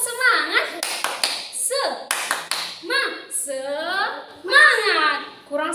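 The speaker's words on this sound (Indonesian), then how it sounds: "ayo kita tepuk semangat." A school class does a rhythmic 'tepuk semangat' clapping chant in a classroom: sharp bursts of group claps in a patterned beat, mixed with children's and a teacher's voices.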